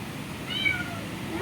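A cat meows at a home's main gate during the rainy season, two short, fairly faint mews over a quiet background with low rumble.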